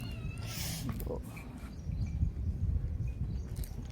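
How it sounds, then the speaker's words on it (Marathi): A cat meows a few times, close and fairly clear, over a low background murmur and faint household noise. "चला माऊ कुठे गेली माऊ"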